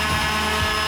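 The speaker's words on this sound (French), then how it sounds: "Puis on ponce." Wood being sanded with a power sander during a van conversion, a loud, steady whirring drone close by with no speech.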